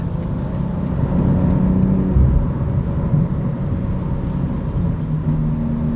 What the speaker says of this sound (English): that rev matching is quick, allows you to drop down very quickly